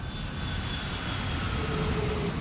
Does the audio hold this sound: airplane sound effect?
yes